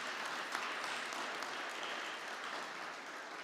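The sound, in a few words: conference audience applause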